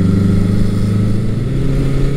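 A Honda CB900C motorcycle with upgraded brakes rides past, its engine a steady loud mid-range drone close by, with no distinct braking sound standing out.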